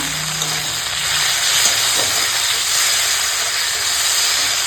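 Ground ginger-garlic paste hits a pan of lightly fried onion, green chilli and chopped tomato, giving a loud, steady sizzling hiss that holds unbroken throughout.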